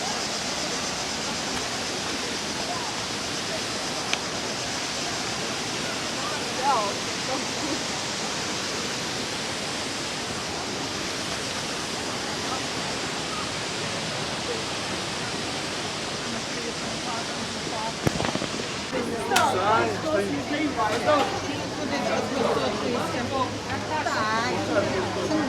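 Rushing water at Kravica waterfall in Bosnia and Herzegovina, a steady broad roar filling the whole stretch, with a few brief voices and louder splashing near the end.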